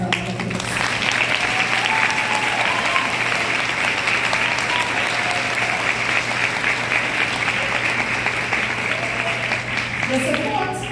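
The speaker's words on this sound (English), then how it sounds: "Let's please give the parents a round of applause." At a high school valedictory ceremony, the audience gives the parents a long, even round of applause, with a steady low electrical hum running underneath throughout.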